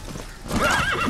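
A horse whinnies loudly in a rising, wavering neigh in the video game Metal Gear Solid V, preceded by a brief soft rustle with no voices.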